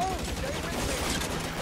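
Rapid gunfire from the video game L.A. Noire rattles in a dense burst of shots with a bright streak overhead, loud and continuous for the whole short stretch.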